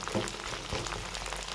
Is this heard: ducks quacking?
no